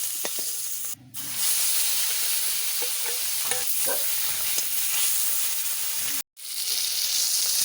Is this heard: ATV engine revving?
no